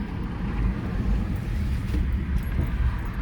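A rebuilt, previously totaled Jeep drives along with a steady low rumble of road and engine noise, buffeted by wind across the microphone, and no voices are heard.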